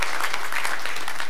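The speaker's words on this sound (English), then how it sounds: "an amen and a round of applause for that." An audience at a business talk claps in a brief, dense burst of applause.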